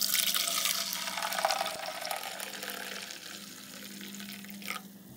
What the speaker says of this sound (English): take your can of carb cleaner and spray it in there as well